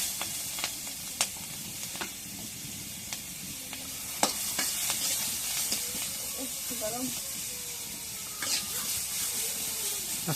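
Onions frying in a wok over a clay stove produce a soft, hissing sizzle with scattered sharp clicks and stirring scrapes, and a faint voice briefly rises underneath partway through.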